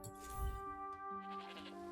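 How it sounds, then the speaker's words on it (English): A sheep in the Forspoken video game gives a short bleat up close, with sustained musical tones from the game playing underneath. "Sheep! Sheep! Feed the sheep."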